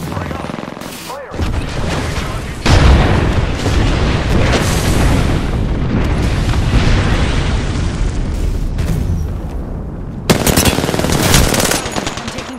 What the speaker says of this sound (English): Heads up, we've got an airstrike coming in.